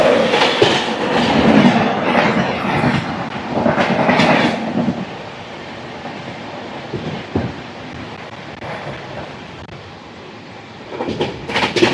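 Duronto express from Yesvantpur to Delhi Sarai Rohilla running at speed, with rhythmic clickety-clack bursts of wheels over rail joints, rising and fading against a steady rolling rumble.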